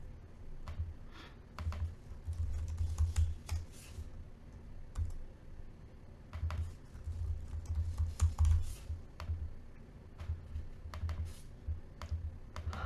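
A Mac computer keyboard is typed on in irregular bursts of crisp, close key clicks, with short pauses between runs and nobody talking.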